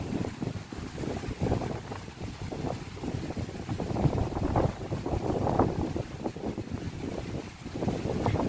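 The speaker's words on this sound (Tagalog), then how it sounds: "Grabe yung hangin." Strong gusting wind buffets the microphone along the Lachine Canal in Montreal, a steady low roar with surging bursts that runs continuously for several seconds, loud and close, with no voices.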